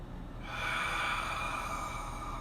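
Deep breath drawn in and pushed out during a core workout, a single long close airy exhale following a short quiet pause.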